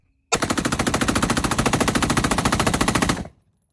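Jackhammer automatic shotgun emptying a 40-round drum in one sustained, rapid full-auto burst of evenly spaced loud blasts lasting about three seconds, then cutting off abruptly.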